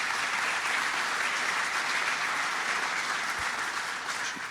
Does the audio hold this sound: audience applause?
yes